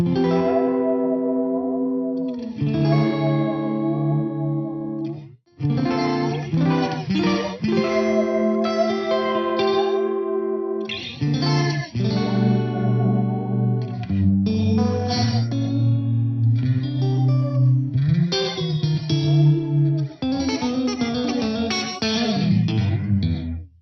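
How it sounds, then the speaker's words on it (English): Heavily processed music from a Kurzweil synthesizer drenched in strange swirling reverb, with a flanging, whooshing sweep on its tail; loud and continuous, no voices. "It sounds like there's some flanging on the reverb feedback or something like that."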